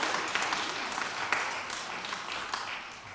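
A church congregation claps during a Sunday morning worship service, a steady spread of hand claps with a few sharper individual claps standing out, moderately loud and fading slightly toward the end.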